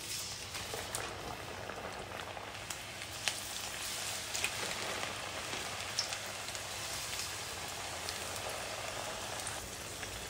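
Bottle gourd pieces roast gently in oil in a pan, giving a steady, dense crackling sizzle with scattered pops that runs unbroken throughout, close and even in level, with no talking.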